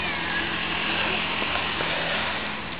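A cat meows amid steady low background noise and faint clatter, the short cry brief and close.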